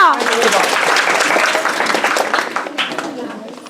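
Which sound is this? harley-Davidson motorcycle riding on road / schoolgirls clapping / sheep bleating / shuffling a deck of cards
schoolgirls clapping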